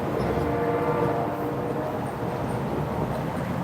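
A train goes by close and loud, a steady dense rumble with rattling clatter throughout the whole stretch, no voices over it.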